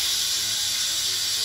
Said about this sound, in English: The pressure cooker is now complete, so we can now stop the cooking process and depressurize